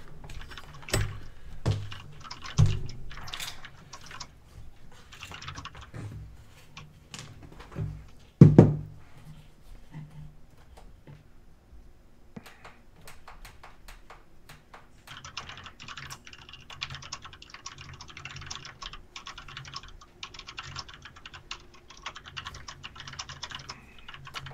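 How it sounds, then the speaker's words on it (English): Computer keyboard typing heard close up, bursts of rapid key clatter with a few louder thumps and knocks, then a pause before denser continuous clicking resumes toward the end; no speech. "Sorry about my keyboard banging away here."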